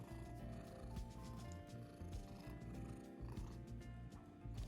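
A house cat purrs loudly and steadily at close range, a continuous low rumbling throb that runs without a break from start to finish.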